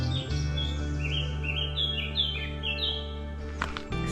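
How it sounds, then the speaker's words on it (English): Birds sing on a rural stretch of the Camino between Muxia and Finisterre, a run of clear repeated whistled phrases at moderate distance over a low steady hum, with a brief rustle near the end. "Just me and the bird song."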